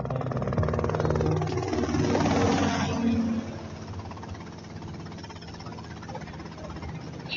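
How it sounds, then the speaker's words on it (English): A helicopter engine drones loudly with a rapid, rhythmic chopping pulse. Partway through it drops to a lower, steadier hum. "that's them in the chopper"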